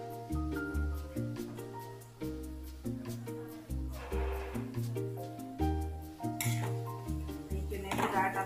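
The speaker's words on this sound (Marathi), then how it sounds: "चण्याची डाळ टाकून घेतली आपण." Chana dal goes into a pan of frying wild vegetable and is stirred with a metal spoon, producing rhythmic scraping and clinking against the pan, repeated steadily at close range with a faint sizzle.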